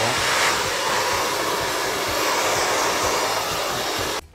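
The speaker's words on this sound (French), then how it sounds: "je vous conseille d'utiliser l'air frais de votre sèche-cheveux" A hair dryer on its cool setting blows a steady, loud, close-up whoosh of air for several seconds while styling a blurred bob, then cuts off abruptly at the end.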